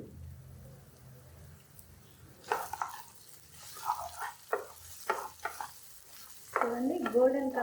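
Onions with ginger-garlic paste frying in a pan for a prawn curry, a quiet low sizzle at first, then several scraping stirs and spoon knocks, ending in a louder burst of sizzling.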